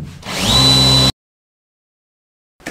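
A power drill drives screws into wooden floorboards in one short, rising whirr lasting about a second that stops sharply, then silence before a brief new start at the end.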